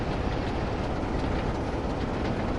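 A train runs in the Train Sim World 2 video game, a dense, steady rumble and rolling wheel noise that stays loud and unbroken throughout with no voices.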